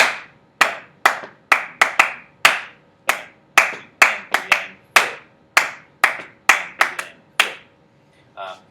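Hands clap out a syncopated rhythm in 4/4, a row of sharp, close, dry claps in uneven groupings ending with an added beat, with no talking over them.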